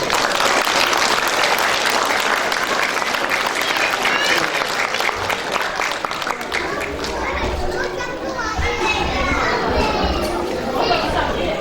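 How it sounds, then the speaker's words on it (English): Audience at a cultural show in Melbourne applauds a speaker being welcomed, with sustained loud clapping mixed with children's voices and crowd chatter throughout. "Please welcome him with a big round of applause."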